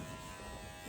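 Electric clippers buzz steadily up close while trimming a horse's leg feathers into a V shape, a continuous even hum with no pauses.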